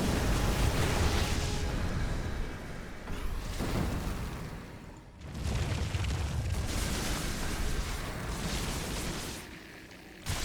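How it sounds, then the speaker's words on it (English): Lurker attacks strike units in a StarCraft 2 battle. Booming, rumbling bursts rise and fall in heavy overlapping waves, with a brief lull midway before the loud impacts return. "Lurker shots going up."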